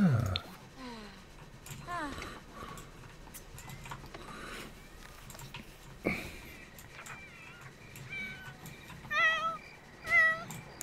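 A cat meows repeatedly in The Sims 4, several short game meows scattered through the stretch, with a person talking over parts of it.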